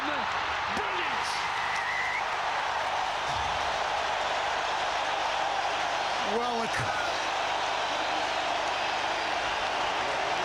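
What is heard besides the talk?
rugby stadium crowd cheering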